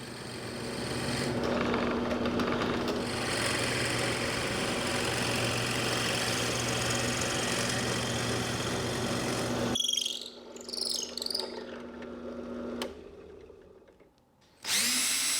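A small benchtop drill press boring a 1/4 inch hole into a wooden board for a cutting board, a loud steady motor whine with cutting noise for about ten seconds, then stopping, followed by scattered clatter and a brief burst at the end.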